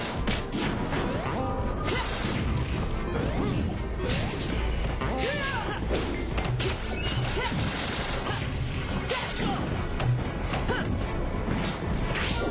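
Dense, continuous Super Smash Bros match between Pit and Sonic, packed with repeated smashing hits, whacks and whooshes from Sonic's forward smash attacks layered over game music.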